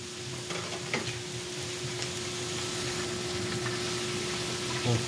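Garlic toasting over mild heat in a pan for pork Bicol Express, giving a steady, close sizzle that holds level throughout with a few faint clinks.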